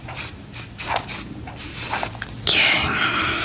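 A can of hairspray is sprayed close by in a few short hissing bursts, then one longer, louder continuous spray near the end.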